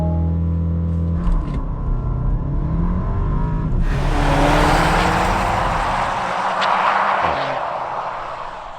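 A 2019 Porsche Macan accelerates from low idle into a rising engine roar, then settles to a steady loud cruise with broadband road and wind noise, heard from inside the car.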